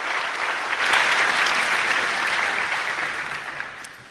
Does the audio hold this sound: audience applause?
yes